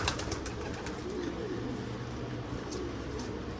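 Pigeons in a coop, a crowd of young birds looking for room to fly, coo softly and repeatedly over a steady background hum, with faint chirps mixed in at moderate distance.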